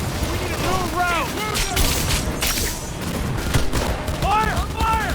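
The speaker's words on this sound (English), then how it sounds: "Firing at close range!" Gunfire in the video game Cyberpunk during a close-range vehicle firefight: dense bursts of rapid shots and booms alongside ricochet-like whines, loud and near, with brief pauses between volleys.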